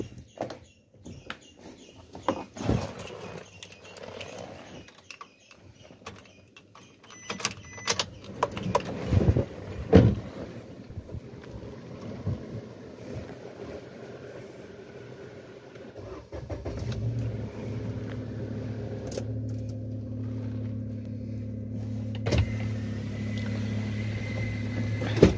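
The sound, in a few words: car engine cold start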